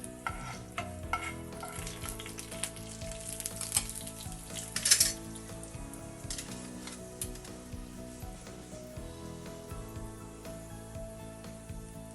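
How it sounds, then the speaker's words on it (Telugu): Urad dal, mustard seeds and cumin crackle and sizzle in hot oil in a pan for South Indian Chennai-style tempering, a steady busy frying hiss with scattered pops over soft background music. "పోపు చిట్టపట్లాడుతోంది."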